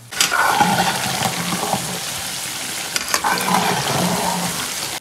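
A large batch of crayfish tails deep-fries in hot oil with onion and ginger for a Sichuan-pepper dish, giving a loud, continuous bubbling sizzle that surges twice as the pot is stirred.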